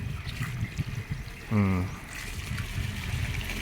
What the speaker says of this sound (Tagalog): Saktuhan lang yung lakas na yan na flow ng tubig.